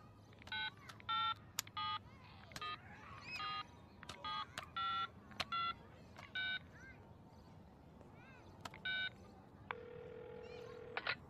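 A mobile phone keypad sounds a quick run of distinct dialing tones in short bursts, with a longer steady tone near the end, against faint background noise and no talking.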